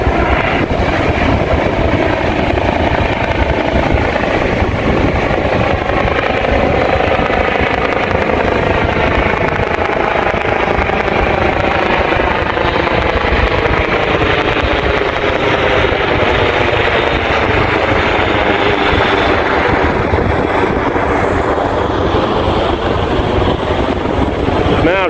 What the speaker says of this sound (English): what's that helicopter doing?